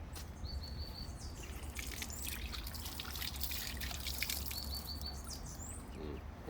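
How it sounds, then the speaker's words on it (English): Fresh thyme is rinsed under running water in a kitchen, giving a faint, continuous trickle and splash, with birds chirping softly in the background. "Fresh thyme, let me wash that up."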